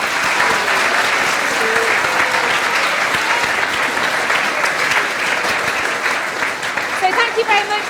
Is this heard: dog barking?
no